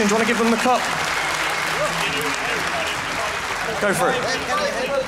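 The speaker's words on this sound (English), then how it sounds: "Round of applause for LDLC" A crowd at the Dreamhack Winter 2014 CS:GO championship grand final applauds the team, loud continuous clapping filling the hall while people talk over it nearby.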